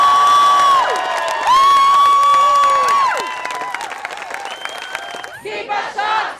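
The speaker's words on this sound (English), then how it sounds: "Let's have a massive cheer." A crowd at an outdoor protest against a shark cull lets out a loud, sustained cheer full of whoops and shouts, fading slightly before a final rising burst of yelling.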